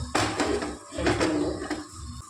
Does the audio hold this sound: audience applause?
no